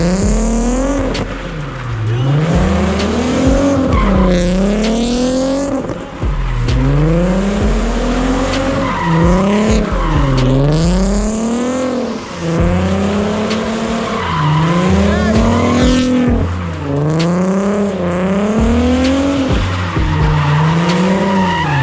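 A black Nissan 370Z slides in second gear across a large lot, its engine revving in repeated rising and falling sweeps while the tires squeal loudly and continuously, close and alone.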